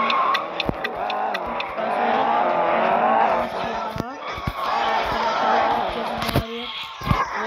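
A car drifts in a racing video game, tires squealing in repeated bursts over a steady engine roar, with someone talking throughout.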